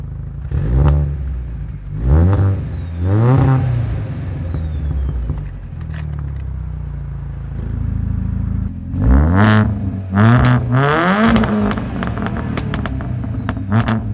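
A turbocharged Audi A4 B6 1.8T engine revs hard several times, rising and falling, then idles with a deep rumble before another burst of loud, throaty revs close by, demonstrating the exhaust valve.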